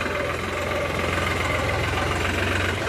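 A steady diesel tractor engine idles with a rhythmic knocking throb, continuous and fairly loud throughout, with no voices.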